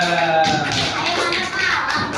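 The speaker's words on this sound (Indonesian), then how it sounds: "beri tepuk tangan kepada nomor 3" Students in a classroom applaud a group's presentation, a brief burst of close, busy clapping with faint voices mixed in.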